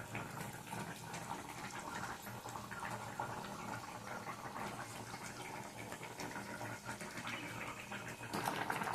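Prawn malai curry in coconut milk gravy bubbling in a pan, a continuous close, moderately loud burbling and boiling wash that swells slightly near the end, with no talking.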